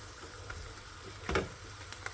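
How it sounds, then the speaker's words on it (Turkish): Flour and peppers roast in a pan, a soft continuous sizzle with a brief louder scrape of stirring near the middle. "Biraz böyle kavrulsun, un kokusu gitsin."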